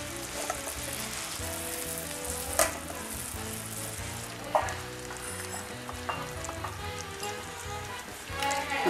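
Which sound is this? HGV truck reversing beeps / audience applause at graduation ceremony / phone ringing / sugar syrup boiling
sugar syrup boiling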